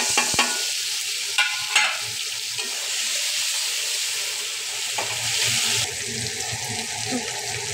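Tomato hits hot oil tempered with black cumin and bay leaf and fries with a loud continuous sizzle, punctuated by a few clinks and stirring scrapes.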